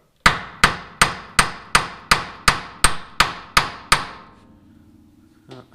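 A hammer strikes a car's front suspension ball joint on a Nova/Camaro to break it loose: eleven sharp, ringing metallic blows land at a steady, quick rhythm, close and loud, followed by a faint clunk.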